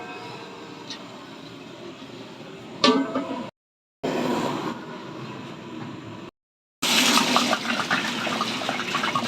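Water pours into a tub before rice is added, a steady rushing, splashing stream that cuts out briefly twice and returns louder and brighter near the end; no one speaks.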